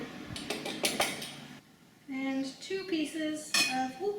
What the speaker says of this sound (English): 1 scoop of hot carrots going in